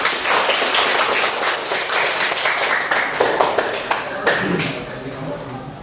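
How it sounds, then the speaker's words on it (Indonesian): Classroom applause from students, a dense, steady patter of many hands clapping close by, continuing for several seconds with a few sharper claps standing out. "saya kira itu tepuk tangan untuk kita semua"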